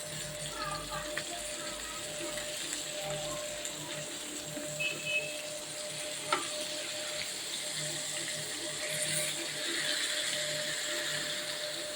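Tandoori chicken fries in oil with a steady, hissing sizzle, punctuated by a few faint scrapes and taps as a ladle turns the pieces, while someone talks over it.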